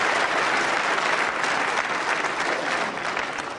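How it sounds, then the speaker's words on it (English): A wrestling match crowd gives a dense, even wash of applause, many hands clapping continuously at fairly loud level from a large audience, easing slightly toward the end. "Again, reserved applause for both."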